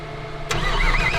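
A truck engine cranks briefly and catches, settling into a steady low rumble, close and fairly loud.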